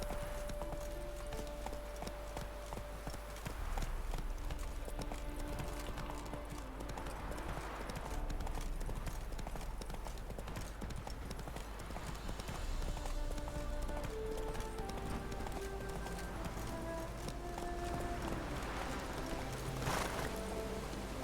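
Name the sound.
horse galloping in video game The Witcher 3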